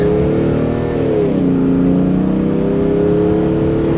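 A tuned diesel engine in a BMW X5 (E70) SUV rumbles deep and loud, revving steadily, pitch rising and holding, with no talking over it.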